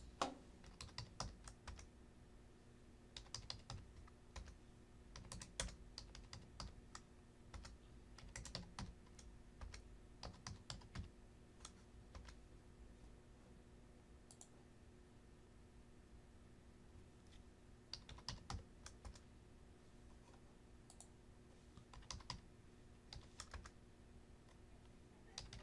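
Plastic keys of a TI-84 graphing calculator tapped in quick irregular bursts with short pauses, close and fairly quiet, no talking.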